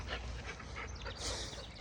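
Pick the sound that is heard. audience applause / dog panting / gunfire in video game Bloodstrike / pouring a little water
dog panting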